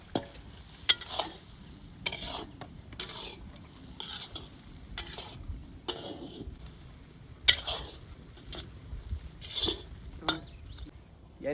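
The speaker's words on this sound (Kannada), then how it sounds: "ಎಣ್ಣೆಗ್ ಫ್ರೈ ಮಾಡಿದ ನುಗ್ಗೆಕಾಯಿ." Drumsticks, or moringa pods, frying in oil in a village-style kitchen, a soft sizzle under repeated stirring with a metal utensil scraping and clinking against the pan, close and uneven.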